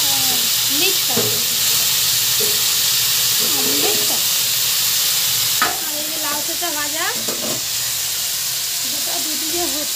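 Cauliflower fries in a pan with a constant loud sizzle and hiss while it is stirred, and a voice murmurs intermittently in the background.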